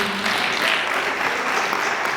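A dinner crowd at an anniversary celebration gives a standing ovation, dense continuous applause filling the room evenly and steadily, with no voices rising above it.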